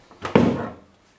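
The insulated side panel door of a Nanoxia Deep Silence 1 PC case shuts with a single muffled, dull thunk, close and brief.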